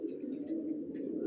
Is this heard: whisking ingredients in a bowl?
no